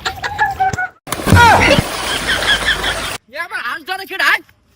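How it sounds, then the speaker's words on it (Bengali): A duck is grabbed and caught outdoors, giving loud, close, agitated squawks and quacks amid scuffling, while several people talk and shout around it. "আমার হাঁস ধরে খেড়াই।"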